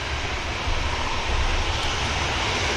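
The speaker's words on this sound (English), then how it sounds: "737. Max 8 for Antalya. On the move." A Ryanair Boeing 737 Max 8 jet moves at Manchester Airport, its engines giving a loud, steady broadband roar that swells slightly partway through, with no voices.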